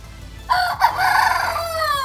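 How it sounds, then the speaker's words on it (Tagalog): A rooster on a rooftop chicken coop crows once, a loud drawn-out call that trails off, with faint background noise and no talking. "Oh, yun, tumilaok na naman."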